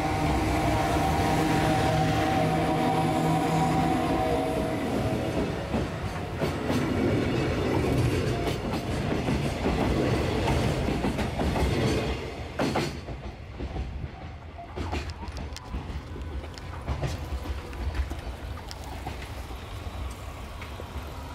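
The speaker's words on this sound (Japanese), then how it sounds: "こちらでは上り貨物線を走る貨物列車を間近で見ることができます。" A JR Freight train runs along the up freight line close to a level crossing. The loud rolling rumble and rhythmic wheel clatter last about twelve seconds, then drop to a quieter trailing clack with scattered sharp knocks.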